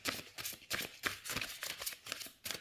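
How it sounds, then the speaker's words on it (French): A deck of oracle cards is shuffled by hand close up, giving a quiet, continuous riffle of papery flicks with no talking. "Les cartes se mélangent très très très bien. Elles ne collent pas entre elles."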